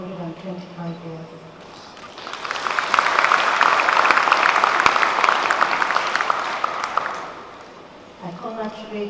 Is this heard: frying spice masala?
no